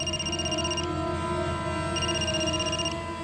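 A telephone rings near a woman searching for a missing girl, its steady electronic tone sounding in two bursts separated by a short gap, with no talking over it.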